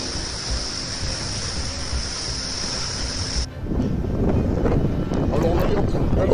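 Heavy Cyclone Belal winds and surf lashing Mauritius, a steady loud roar of wind and crashing water that turns rougher and more turbulent midway, with no clear talk.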